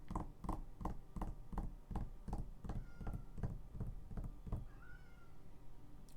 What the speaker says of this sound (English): I can hear her just meowing like crazy.